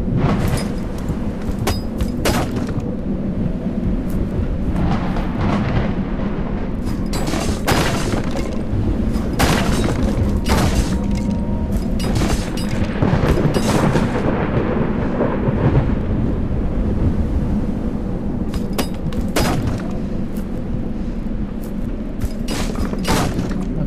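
In the Total Chaos video game, thunder rolls as a dense, sustained rumble with repeated sharp cracking bursts over a steady rain-like wash, loud and unbroken throughout.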